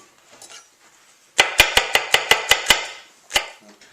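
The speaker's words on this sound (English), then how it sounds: "And you just take your endive, and you can just roughly chop it." A knife roughly chops endive on a cutting board. About nine quick, crisp thuds land in an even rhythm, close and clear, then one more chop follows after a short pause.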